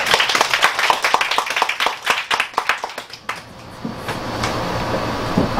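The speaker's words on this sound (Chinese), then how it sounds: "我们借大家的手，拍拍手" Lecture-hall audience members welcome a speaker with crisp, scattered hand claps, a quick run of distinct, fairly close slaps for about three seconds that thins out into a few stray claps and quiet room noise.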